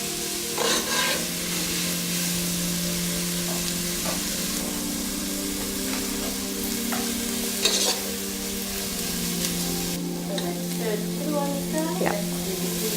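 Curry leaves and onions sizzle and crackle in hot oil in a pan, a steady close frying hiss with occasional stirring clinks and scrapes.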